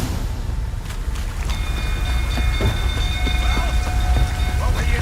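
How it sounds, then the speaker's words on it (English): Steady rain falling in the video game The Witcher 3, a continuous wash of drops with a low rumble underneath and faint tonal hums, loud and even throughout with no talk. "It's getting raining again."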